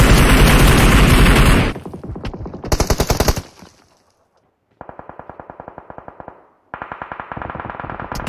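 Automatic gunfire in BGMI (PUBG Mobile) during a squad rush match: loud rapid bursts, a dense opening volley, then several separate rattling strings with short gaps of silence between them.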